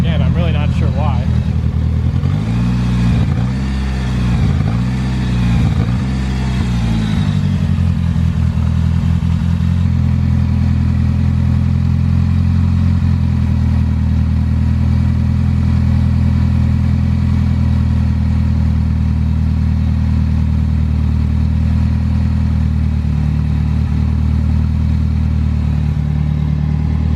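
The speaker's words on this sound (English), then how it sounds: "It's idling pretty decent, except for the misfire, which again I'm really not sure why." The rebuilt engine of a 1991 Mitsubishi Eclipse GSX idles loud and close, with a steady low rumble and an uneven misfire running through it. Someone talks over the sound early on, then the engine runs alone.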